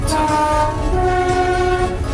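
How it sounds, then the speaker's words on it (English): A heritage train running on the Midland Railway, heard from on board: a steady loud rolling rumble with a sustained horn-like tone riding over it, no talking. "now I've gotten onto the train and we're on our way to Swanwick Station"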